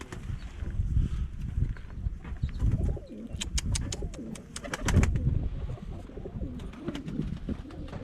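Pigeons cooing in low, soft, repeated rolls amid rustling and shuffling in a loft, with a few sharp higher chirps and clicks breaking through.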